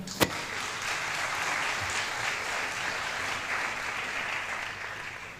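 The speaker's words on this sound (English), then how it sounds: "Let's give him a proper round of applause." An audience at the Law Students Association of Kenya grand launch event gives a round of applause, dense sustained clapping that opens with one sharp clap and holds steady throughout, with no voices over it.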